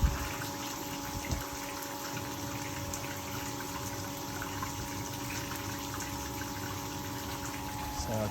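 Steady rushing of water driven by a power flushing pump cleaning out heating radiators, a continuous mechanical hum with flowing liquid underneath, constant and fairly close throughout.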